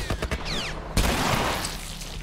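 Gunfire in The Last of Us Remastered, a rapid cluster of close, loud shots followed by a sharp blast that rings out and decays.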